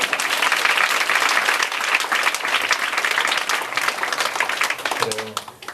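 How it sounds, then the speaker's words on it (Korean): A church congregation at a testimony revival gathering breaks into loud, dense applause, many hands clapping steadily before tapering off, with a voice emerging briefly at the end. "일단 박수 한번 쳐야 돼요"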